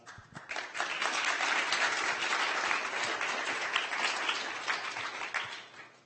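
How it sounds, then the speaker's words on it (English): A meetup audience at a growth engineering event applauds the speakers, steady dense clapping that swells quickly, holds for several seconds, then tapers off, with no talk over it. "I first wanted to give just another round of applause to all our speakers, Alan, Ganesh, and Michael."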